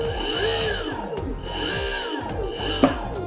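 Brushless motor on a drift trike revving under throttle, its pitch sweeping up and down in repeated whining surges, close and fairly loud, with a brief knock near the end.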